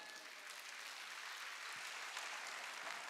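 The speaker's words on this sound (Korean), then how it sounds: "박수 치라." Sustained audience applause fills a church sanctuary during a Wednesday worship service, a steady, dense wash of clapping hands that holds at an even level throughout.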